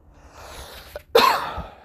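A single sharp cough bursts out after a quiet moment of soft breathing, close and fairly loud, with a brief throaty tail.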